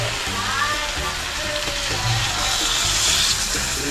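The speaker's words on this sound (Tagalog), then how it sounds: "Kumukulo na po siya" Soup broth boiling in a pot, a continuous bubbling and hissing simmer with small pops, heard close and steady for the whole stretch.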